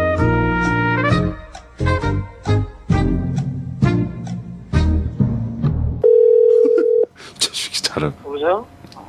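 A telephone call's ringing tone sounds as one steady beep about a second long, amid Korean speech. It follows a stretch of voices and other tones and gives way to further brief sounds.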